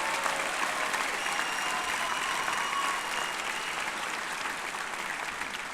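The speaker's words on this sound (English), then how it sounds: "How about another nice round of applause for these outstanding young men and women?" Sustained, dense applause fills a university commencement ceremony hall, a large crowd clapping steadily and evenly from start to finish with no voices on top.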